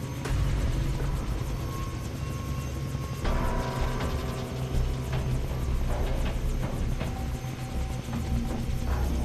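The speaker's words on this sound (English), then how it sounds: "can't let them put Ollie in the chopper" Helicopter in the video game Far Cry 3, a steady whirring rotor and engine drone running loud and continuous throughout, with clanks and other game effects layered on top.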